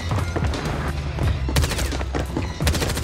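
Gunfire in the video game Warzone: rapid bursts of loud automatic shots in quick succession, with short gaps between volleys and one heavier burst near the end.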